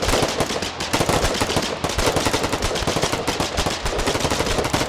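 Rapid automatic gunfire crackles in a dense, continuous stream of loud shots during a battle in the war video game Foxhole.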